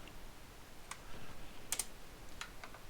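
A console command typed on a computer keyboard during a Day of Defeat 1.3 game on Linux: a few quiet, separate key clicks spaced irregularly, close and faint with no voices.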